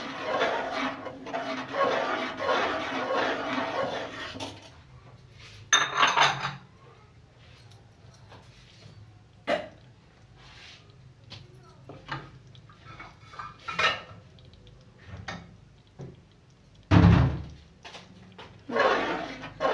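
Suji halwa being stirred with ghee in a pan: a scraping, shuffling spoon against metal comes in bursts, loudest at the start, followed by quieter rubbing and a few sharp knocks and clinks.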